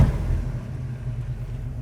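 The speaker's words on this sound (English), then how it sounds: "Idle's great too. And that 427 sound never gets old." A 1969 Camaro RS/SS with a 427 V8 idles nearby, a steady low rumble throughout with slight pulsing and no talk.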